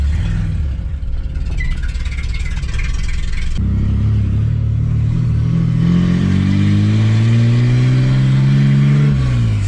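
A Ford AU Falcon drift car, recently troubled by a seized gearbox and slipping clutch, revs loudly nearby, its engine pitch climbing steadily through the gears in a strong rising roar.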